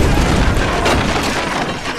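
Gas explosion set off by gunfire in the GTA V video game, heard as a loud, dense booming crash that fills the clip with sustained roaring rumble.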